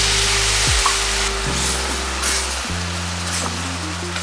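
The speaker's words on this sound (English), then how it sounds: "Quickly stir fry for 1 to 2 minutes." Beef short ribs stir-fry in a hot pan with sugar and soy sauce, giving a loud continuous sizzle with occasional scraping stirs over a low steady hum.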